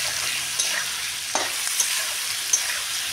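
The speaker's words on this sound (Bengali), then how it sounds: "টমেটোগুলি দিয়েও একটু নাড়ি চাড়িয়ে নেবো ভালো করে।" Tomatoes stirred into a sizzling kadai for kadai paneer: a steady frying hiss with a few sharp scrapes and clinks of the spoon against the pan, close up and with no talking.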